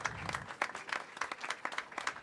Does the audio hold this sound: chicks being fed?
no